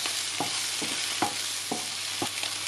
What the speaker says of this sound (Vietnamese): Nếu như anh chị em và các bạn nấu nấm tươi đó thì bây giờ mình sẽ xào cho chín.